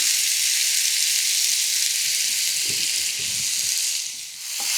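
Sliced onions fry with a little salt in a pan, a steady bright sizzle holding evenly for a few seconds with a faint soft clink near the end.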